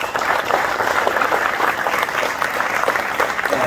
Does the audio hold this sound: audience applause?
yes